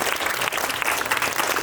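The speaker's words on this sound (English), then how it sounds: "all right, yeah, we can all cheer." An audience at an Orlando Ballet press conference gives dense, steady applause that fills the room from start to end.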